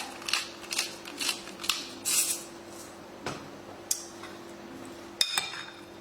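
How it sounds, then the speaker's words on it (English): A pepper grinder cranks out pepper over a tartiflette, a series of short, dry gritty grinding bursts in an irregular rhythm, close and fairly quiet, with a few sharper clicks between them and no talking. "A good grated pepper"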